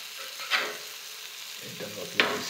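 Fresh puti fish frying in oil, a continuous soft sizzle punctuated by two sharp spatula scrapes against the pan.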